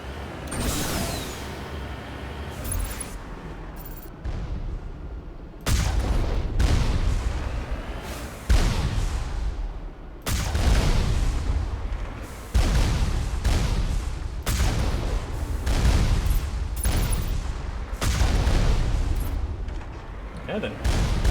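Turret gunfire in the Mass Effect 1 Legendary Edition sci-fi shooter: repeated loud, booming bursts of shots in clustered volleys, separated by brief lulls, with heavy low rumble.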